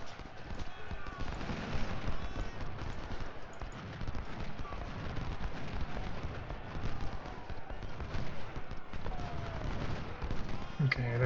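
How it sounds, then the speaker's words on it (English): Battle din in Ultimate General: Civil War, a dense bed of rumbling volleys and booming artillery fire that runs steadily throughout, with no clear voice over it. "Okay, there's the artillery."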